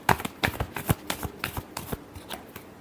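Tarot cards being shuffled in a quick run of crisp riffling bursts, close and clear, with no voices.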